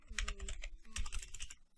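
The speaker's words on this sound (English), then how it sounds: "Let's just type in CodeBlocks." Quick bursts of clicky keystrokes on a computer keyboard, close and crisp, in two short runs separated by a brief pause.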